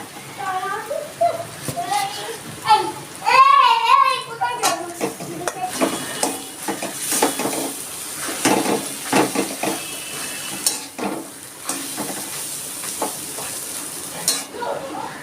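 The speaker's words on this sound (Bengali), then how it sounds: "এবার দিয়ে দিচ্ছি আমি ডাল" Lentils tipped into a hot pan with cumin seeds and stirred, giving a steady sizzle with scraping and clinking of a spoon against the pan, while someone talks over it throughout.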